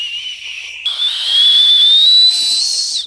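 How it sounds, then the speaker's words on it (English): A loud fingerless whistle made with the tongue holds one sustained, gradually rising tone for about three seconds, clear and alone with no voices. "But I keep trying to making fingerless whistle more louder than this one"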